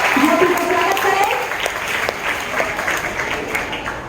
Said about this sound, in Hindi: बच्चों, जोरदार तालियों से ज्योति का स्वागत करें